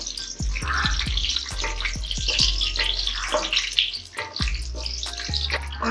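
Whole spices and bay leaves for mutton masala dropped into hot oil, giving a close, busy crackling sizzle with sharp pops and bubbling that carries on steadily throughout.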